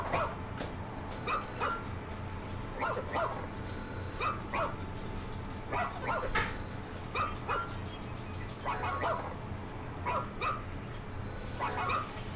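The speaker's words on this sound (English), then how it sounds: "This dog barks a lot." Dog in the ReCore video game barking repeatedly in short, regular bursts of a few yips each, moderately close, over a steady low background hum.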